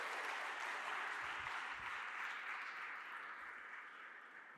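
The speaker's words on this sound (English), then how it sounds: "So please join me in applauding my colleagues." Audience at a G20 policy event applauding colleagues, a steady, even wash of clapping heard at a distance and fairly faint, slowly fading toward the end.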